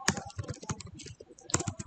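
Rapid clattering keystrokes on a computer keyboard, close and crisp, in quick uneven bursts with a brief pause before a final flurry.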